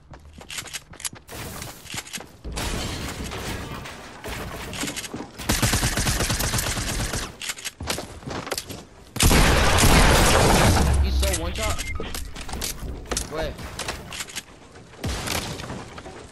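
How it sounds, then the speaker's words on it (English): Video game gunfire comes in dense, loud bursts of rapid automatic fire mixed with heavier booms, sustained across most of the stretch with brief lulls between volleys, while people talk over the shooting. "Are you being shot at?"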